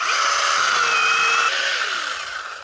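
A Narion chainsaw cuts through apple tree wood in an orchard, its loud, high engine whine holding steady before dropping in pitch as the cut finishes.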